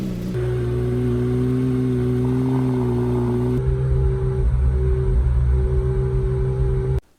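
A Volkswagen Corrado G60 engine idles steadily while warming up, a loud, close, even drone with a strong low hum that shifts slightly in tone partway through, running alone until it cuts off at the end.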